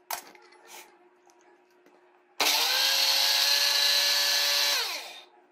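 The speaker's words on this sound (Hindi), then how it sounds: "अब हम इसको ग्राइंड करेंगे।" An electric grinder blends tamarind chutney with about 2.5 spoons of yogurt and no water. It starts abruptly with a loud, steady whir lasting about three seconds, then spins down. A few faint knocks come before it starts.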